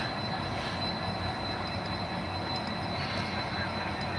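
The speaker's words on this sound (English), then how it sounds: "Here we have locomotives coming out of the engine house." HO scale model railroad locomotives roll out of an engine house on the track, giving a continuous close rolling rumble with a thin, steady high squeal of wheels and faint clicks above it.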